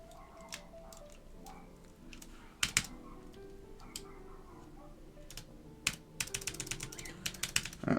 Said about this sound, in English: Let's get that backspace mounted.